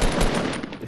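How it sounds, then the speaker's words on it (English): Gunfire in a multiplayer video game, a dense rattling burst of automatic shots with a couple of stronger early cracks, loud and continuous through the brief moment with no voices over it. "Hey, someone's shooting at us."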